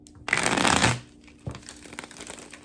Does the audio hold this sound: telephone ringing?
no